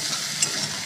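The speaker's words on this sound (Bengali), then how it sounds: "আলু ভাজা হয়ে গেলে কিন্তু তারপরে আমি মশলাটাও কষাতে দিয়ে দিলাম" Spices frying and being stirred in a karai after fried potatoes and pointed gourd, a steady close sizzle with a brief scrape of the spoon.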